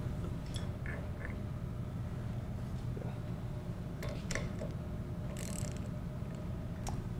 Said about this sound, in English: We'll get started by removing our upper adjustment screw and breather plug.